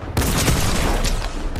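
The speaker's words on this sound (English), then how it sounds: "why is the hand cannon so good?" Hand cannon gunfire in the Fortnite video game: a dense, loud burst of blasts rolling continuously for over a second, the shots running together into a sustained crackling barrage with no talk.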